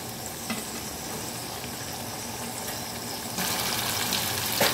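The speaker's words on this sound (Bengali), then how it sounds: "এখন আমি এই মশলাটাকে একটু ভালো করে কষিয়ে নেব, যাতে আদা আর টমেটোর কাঁচা গন্ধটা চলে যায়" Ginger and tomato masala frying in a pan while being stirred, a constant close sizzle with scraping stirs that grows louder and brighter partway through; no one speaks.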